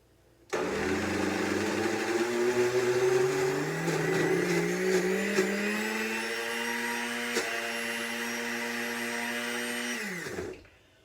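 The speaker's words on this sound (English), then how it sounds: "1 cup of cottage cheese goes into the blender. I'm going to go ahead and start blending that." A blender whirs loudly for about ten seconds while blending cottage cheese, its motor pitch rising steadily as it runs, then cuts off abruptly.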